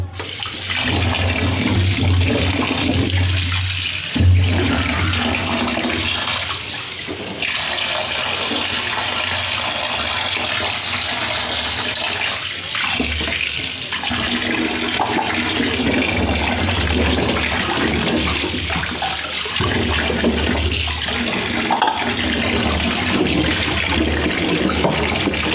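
Carrots being washed under a running kitchen tap, a steady, close rush of water lasting throughout with splashing and shifting flow as the vegetables are handled, and no talking.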